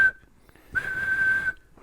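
A whistle gives a steady high pure tone, one short blast then a longer held one, close and loud with a thin hiss around it.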